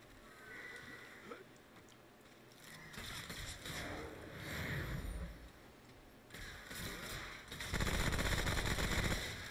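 Gunfire in Remnant: From The Ashes, with rapid bursts of shots crackling over a busy battle soundscape, building to a loud sustained volley near the end, with no talk over it.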